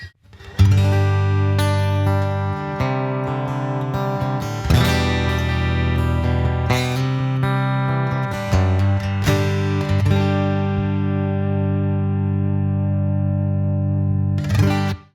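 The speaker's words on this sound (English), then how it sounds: "it's when you go to this acoustic sound now that you're really going to probably be quite surprised" Bright acoustic-style tone from a PRS Custom 24 electric guitar's piezo pickup, strummed and picked, chords ringing out and sustaining, ending with a long decaying chord.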